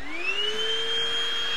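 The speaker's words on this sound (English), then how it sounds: "So if you flick the switch up, the vacuum cleaner will turn on and you'll see your power level as well." Oraimo handheld vacuum cleaner with a 100 W motor, switched on and running: a steady, loud high-pitched motor whir with a rising tonal whine that settles into a constant drone, with no voices.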